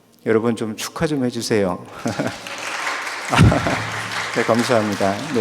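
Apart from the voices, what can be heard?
congregation applauding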